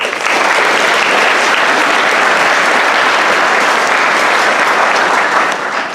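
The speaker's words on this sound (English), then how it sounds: "a round of applause for the Booster Club" An audience at a school fall sports awards event claps loudly and continuously, a dense, even wall of applause sustained throughout.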